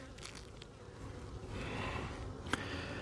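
Faint, steady buzzing of honey bees at a hive with capped honeycomb, quiet and close, with a soft knock near the end.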